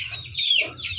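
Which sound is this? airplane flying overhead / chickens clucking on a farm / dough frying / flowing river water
chickens clucking on a farm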